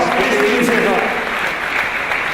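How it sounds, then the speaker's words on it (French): Audience applause at a French-language award ceremony, steady dense clapping throughout with voices talking over it. "On l'applaudit, mesdames et messieurs."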